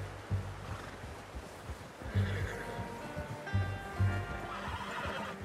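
A horse in Red Dead Redemption 2 neighs a few times in close, whinnying bursts, with faint hoof clops and low ambient rumble beneath.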